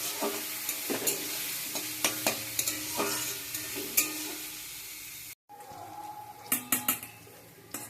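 Onions sizzle in a pan while a metal spoon stirs and scrapes, clinking repeatedly; a brief cut, then more frying and clatter.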